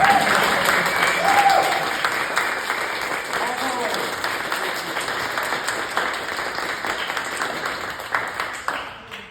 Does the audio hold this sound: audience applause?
yes